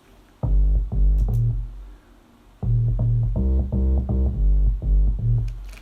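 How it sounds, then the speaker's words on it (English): A deep, fat synth bass line plays in repeated rhythmic phrases, stopping briefly before returning with a busier pattern. "The first one is a bass line, which sounds like this."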